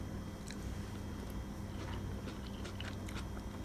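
Someone bites into and chews a firm, slightly crunchy pineapple tomato during a taste test. Soft, faint crunching and moist chewing sounds come up close in a quiet room, with no talking.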